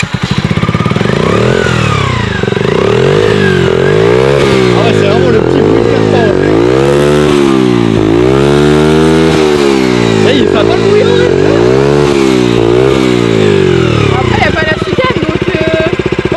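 A motorcycle starts and its engine revs repeatedly, rising and falling in loud, close, sustained sweeps before settling, with people talking over it.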